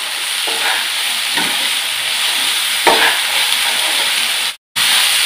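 Salted green beans sizzle steadily in a hot pan over a medium flame, with a few scraping stirs and a brief cut near the end, and no voices.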